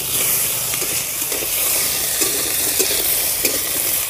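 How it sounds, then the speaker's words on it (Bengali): Potatoes frying in hot oil for a village-style pumpkin-leaf and bata fish curry, a loud, steady sizzle running close and unbroken throughout, with faint scrapes of stirring and no voices. "এবারে আমি আলুগুলো প্রথমে ভেজে নেব"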